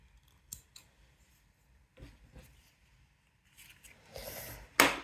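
Scissors snipping off-white crochet yarn, a few soft sparse clicks building to a loud, close crisp cut at the end, with no talking.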